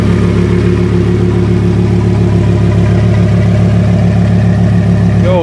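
A twin-turbo Lamborghini V10 tuned to about 1000 hp idles close by on a New York City street, a loud, steady, deep rumble that holds evenly throughout with no talking.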